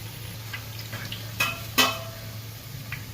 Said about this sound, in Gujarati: દાળવાળા પૂરો ત્યારે પાણીનો ભાગ વધારે હોય એટલે બબલ્સ વધારે થાય.